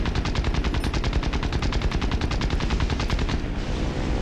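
Rapid sustained machine gun fire in the War Thunder video game, a steady stream of evenly spaced shots running loud and close for about four seconds without a break.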